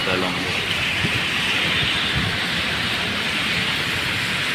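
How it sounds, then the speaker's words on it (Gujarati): Steady rain falls during a morning downpour, a continuous dense hiss that stays level throughout, with faint low rumbles beneath and no clear speech. "વરસાદ જો સવારથીનો ચાલુ હતો ને હજી ચાલુ."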